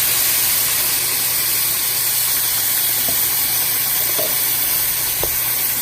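Water poured from a container into a pot of dirty rice with chicken, a loud, steady rushing hiss close up, broken by a few faint clinks.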